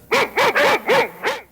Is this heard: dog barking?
yes